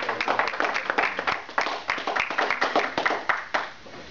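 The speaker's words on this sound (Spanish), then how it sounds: "Un fuerte aplauso al Señor." Church congregation applauding during a Spanish-language sermon, a dense round of hand claps with sharp irregular peaks swelling and holding steady for several seconds, fairly close and loud, with a few voices mixed in.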